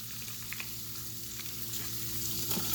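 Butter melting in a cast iron pan, giving a soft, continuous sizzle over a low hum that swells slightly toward the end, quiet and without speech.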